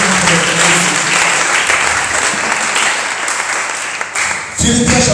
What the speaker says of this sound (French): Est-ce que tu peux acclamer pour la gloire?